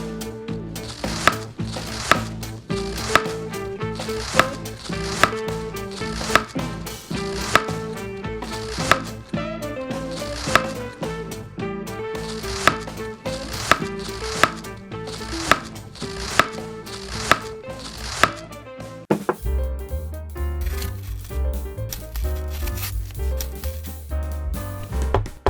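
A knife chops garlic on a cutting board for a mini chicken soup, making a fast, steady run of crisp, even knocks close by. Music plays underneath, and the tone shifts near the end.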